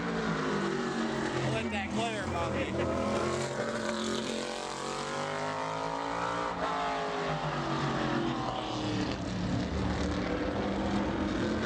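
Chevrolet modified race car, the number 99, roaring around Bowman Gray Stadium on a qualifying lap, a steady loud engine drone with pitch sweeps as it passes, under continuous trackside announcer commentary.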